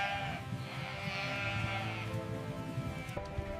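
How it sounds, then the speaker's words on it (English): Sheep bleat in the arid Australian outback, several overlapping calls from a flock held steadily over a constant outdoor background without talk. "More than 70 million sheep roam the land."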